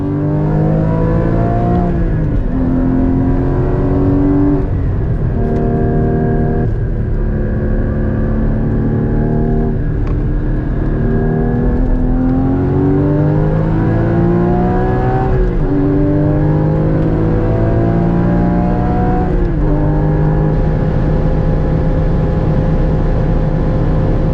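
A Porsche 981 GT4 on Michelin Pilot Sport Cup 2 tyres laps the Nürburgring Nordschleife in perfect conditions. The engine is loud and close, rising through the revs, dropping at each shift and climbing again across the whole stretch.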